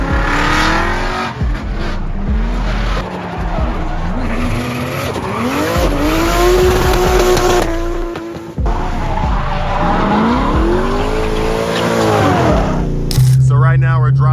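An E46 BMW drift car with an LS engine swap drifts at Irwindale, its V8 revving hard with long rising and falling engine notes and tire squeal, loud and close, with a voice talking over parts of it.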